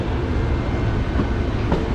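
An express train leaving Chennai Egmore on the Chennai–Rameswaram route gives off a loud, continuous rolling rumble with dense wheel and carriage noise, heard close from onboard.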